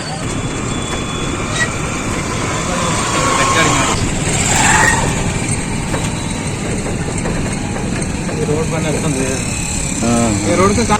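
An auto rickshaw travelling toward Prayagraj station, its engine droning steadily with road rumble, traffic noise and a horn blast; voices talk throughout.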